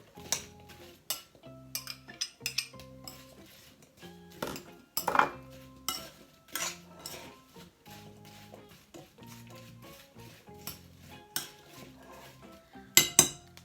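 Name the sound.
mixing apple pie filling ingredients in a bowl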